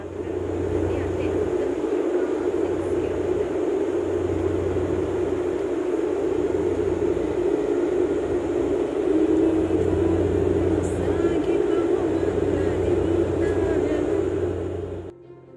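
Steady broadband roar inside an airliner cabin as the plane climbs after takeoff, with a constant low engine drone and airflow hiss throughout, loud and unbroken until it cuts off at the end.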